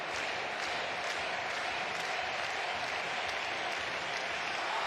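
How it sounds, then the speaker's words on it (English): A crowd applauds a dive at a diving competition: dense, continuous clapping from many hands held at an even level throughout, with no voices standing out. "And the crowd loved it."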